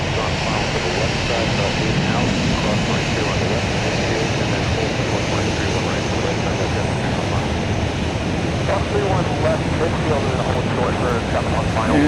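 Boeing 737 MAX 8 jet at Dallas Love Field, a steady broadband engine roar holding at a constant level throughout, with faint voices in the background.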